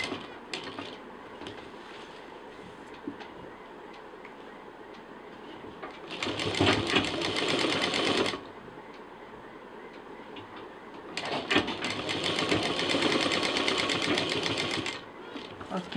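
Two separate bursts of machine stitching on fabric for a sling bag, each a few seconds of steady rattling whir, with quieter handling between them.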